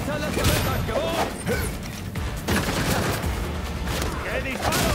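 Rapid gunfire from the Gotham Knights video game crackles in dense, overlapping bursts over a loud, busy mix of action sounds, with a voice calling out briefly.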